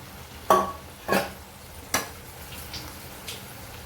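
Soaked rice and carrots with spices are stirred in a pan, giving a few distinct scraping clinks about half a second apart, then fainter taps over a quiet sizzling background.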